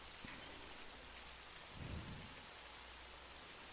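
Heavy rain pours in a dense, continuous hiss, and a low thunder rumble swells briefly about halfway through before fading back under the downpour; quiet and even throughout, with no voices.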